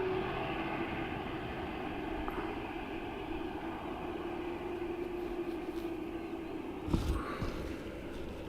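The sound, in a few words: aircraft EI643 from Prague approaching Dublin Airport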